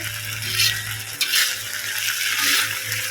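Moss mushrooms fry in a wok with a constant loud sizzle, broken by occasional scraping stirs of a utensil against the pan.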